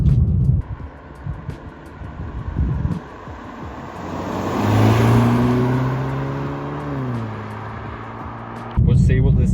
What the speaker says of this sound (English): We'll see what this 2-litre turbo can do